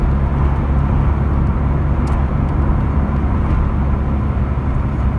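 A gold 1984 mk2 Vauxhall Cavalier on the road, heard from inside as a loud, constant low engine and road drone with steady tyre roar and no talking.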